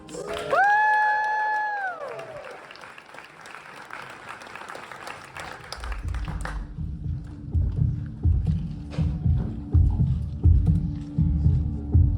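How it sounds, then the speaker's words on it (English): Theatre audience applauding at a Poe short stories speakeasy show, following a rising whistle-like tone, with steady close clapping building in the second half. "please give a heart-stopping round of applause for the Telltale Heart"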